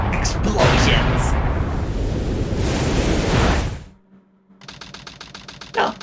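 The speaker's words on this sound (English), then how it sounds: "Explosions!" Explosions in the video game Sonic Adventure 2, a loud sustained roaring blast that rumbles for several seconds before cutting to near silence, followed by softer rapid clattering game effects and a brief burst near the end.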